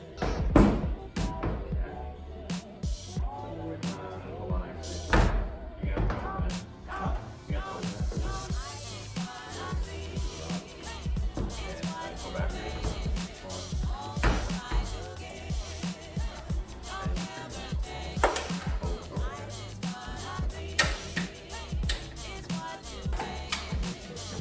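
A car door being fitted and shut on a wrecked Honda S2000 in a home workshop: a string of sharp clunks, taps and thuds of varying strength over about twenty-five seconds, close by, with some faint voice-like sound and shop clatter between them.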